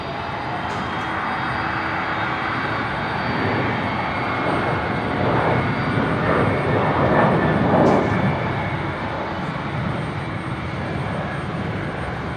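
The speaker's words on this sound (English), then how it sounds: "The 359er heading off to Auckland" An Airbus A350-900 airliner departs Brisbane International Airport for Auckland, its jet engines producing a loud, continuous broadband roar that swells and holds for several seconds at a moderate distance.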